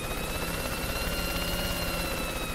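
Helicopter rotor in the Worms video game: a steady, loud, continuous thudding whir with a droning engine tone, sustained throughout without speech.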